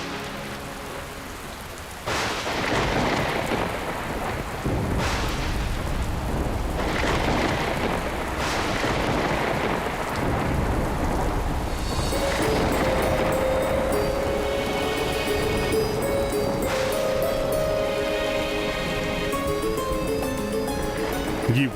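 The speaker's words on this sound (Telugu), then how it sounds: "ఈ వర్షం ఇప్పట్లో ఆగేలా కనిపించడం లేదు." Heavy rain pours down steadily, with rolling thunder rumbling beneath the downpour throughout, loud and continuous with no voices.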